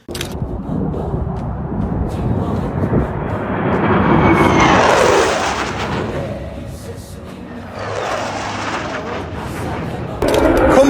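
Fighter jets roaring overhead, a loud broadband engine rush that swells to a peak mid-way, fades, then surges again near the end, with no speech.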